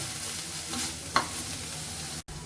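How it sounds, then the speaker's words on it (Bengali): Frying spice paste for Thai green curry sizzles softly in a pan as more oil is added, with a couple of brief stirring scrapes. "আমরা এখানে আরেকটু তেল অ্যাড করছি"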